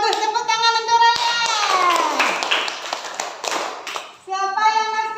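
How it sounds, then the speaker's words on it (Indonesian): A classroom of children claps for a student, a burst of clapping mixed with children's voices and singing-like tones around it. "Tepuk tangan untuk Raya."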